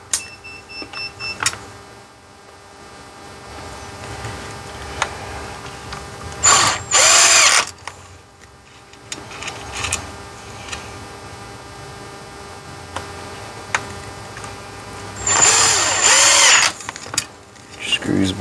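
A power drill drives screws back into a Ford 6.0 diesel FICM, with two loud bursts of whirring spin several seconds apart, plus quieter clicks and handling noises between them, and someone talks in the pauses.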